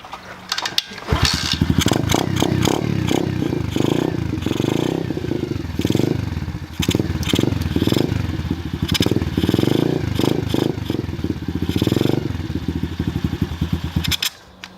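Apollo 125cc pit bike engine, started for the first time, running loud and close with uneven revving and sputtering bursts throughout, then stalling and cutting out near the end.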